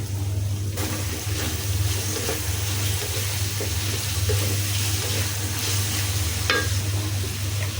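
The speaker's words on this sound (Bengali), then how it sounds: "এখন দিয়ে দিব পেঁয়াজ বাটা আমি এখানে তিনটার মতো পেঁয়াজ বেটে নিয়েছিলাম দিয়ে দিলাম" Onion paste made from about three onions frying in a pan, a dense continuous sizzle with soft stirring scrapes and an occasional clink, over a low hum.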